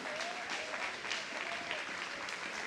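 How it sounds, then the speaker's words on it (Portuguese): A church congregation at a worship service applauds in praise, producing a continuous, moderately loud patter of many hands clapping with a faint tone threading through it. "Pode aplaudir a Ele por isso?"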